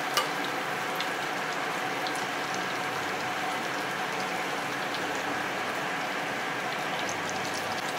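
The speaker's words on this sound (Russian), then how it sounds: "Жареное мороженое." Steady crackling and sizzling of ice cream deep-frying in hot oil, a dense fizzing hiss that holds evenly throughout with no voices.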